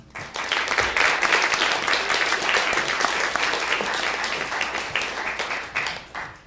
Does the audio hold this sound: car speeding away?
no